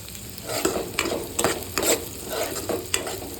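Peanuts frying in a pan for mango chitranna while being stirred, with a soft sizzle under quick scraping and rattling strokes of a spoon that come in a loose rhythm, close but fairly quiet.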